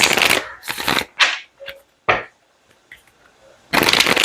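A deck of oracle cards being shuffled, loud close riffling bursts that start and stop, separated by quieter taps and soft card handling in the pauses.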